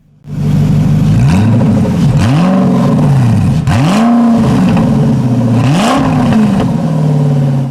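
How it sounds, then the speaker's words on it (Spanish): Koenigsegg CCX engine revving through its huge central exhaust, loud and close, with repeated throttle blips swooping up and down over a rumbling idle and no one speaking. "la enorme salida de escape central que es gigantesca, masiva y naturalmente suena de maravilla"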